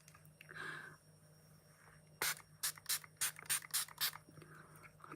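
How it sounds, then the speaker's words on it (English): Revolution pore minimizing spray misting from its bottle in a series of about eight short, quick hissing bursts, close and fairly crisp, after a brief rustle. "It's a Revolution like pore minimizing spray. So I like to use a bit of this on."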